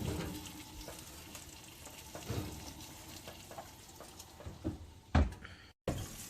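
A three-pound cowboy steak sizzles and fries in butter in a pan, a steady crackling hiss with a few louder clatters and a sharp knock near the end before a brief silence.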